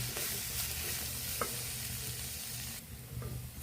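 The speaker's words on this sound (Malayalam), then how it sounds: "ഒന്ന് വഴറ്റെടുക്കണം കേട്ടോ കൂടുതലൊന്നും ജസ്റ്റ് ഒന്ന് വഴറ്റെടുക്കുക" Chutney ingredients for idli and dosa sauté in a pan with a steady, close hiss of frying and faint stirring scrapes throughout, and no voices.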